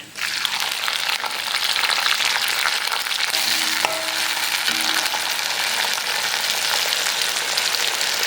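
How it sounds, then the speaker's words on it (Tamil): Small onions and curry leaves, added to hot oil with cinnamon and fennel for mushroom sukka, sizzle loudly and steadily close up, with a few faint stirring clinks. "இப்போ இந்த வெங்காயத்தையும் கருவேப்பிலையும் ஆட் பண்ணிக்கோ"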